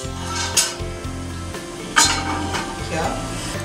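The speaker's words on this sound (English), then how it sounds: "So I have now put the frying pan on the flame" A frying pan is set down on a stove flame and a cooker is moved aside, giving a few clanks and metallic clinks of cookware over a low steady hum.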